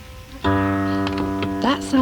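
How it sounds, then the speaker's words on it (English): Autoharp strings being tuned give a sustained, steady ringing tone with slight shifts in pitch, sounding fairly close, and a voice cuts in briefly near the end. "That sound you can hear is Sandra tuning the strings of one of her instruments."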